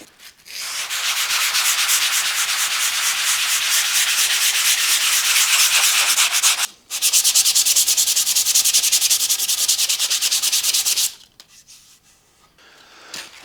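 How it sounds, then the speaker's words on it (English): Steady scratchy rubbing of sandpaper by hand on a wooden guitar body, two long continuous passes with a brief pause between, close and fairly loud. "So a bit of hand sanding"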